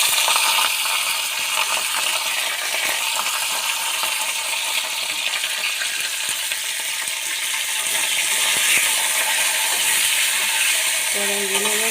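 Pieces frying in hot oil in a wok, a steady, bright hiss of bubbling oil running continuously at moderate loudness, with a brief voice near the end.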